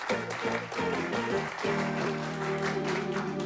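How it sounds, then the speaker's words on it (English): Studio audience on a TV game show applauds the Pelser family, the clapping steady and loud throughout, with music and tones layered over it. "Let's have a big round of applause for the Pelsers"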